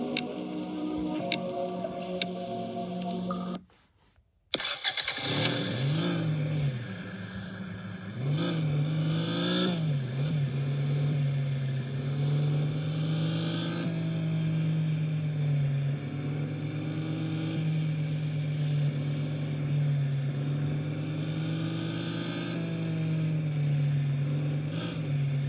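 Game car engine in a parking simulator fires up after a brief silence, then holds a steady droning hum with rising and falling revs as the car drives off, constant and fairly loud with light ticking clicks early on.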